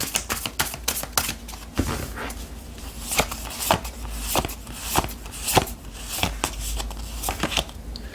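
Tarot cards handled and drawn during a reading, giving crisp, repeated snaps and flicks in an uneven rhythm, close and fairly loud, with faint background hum.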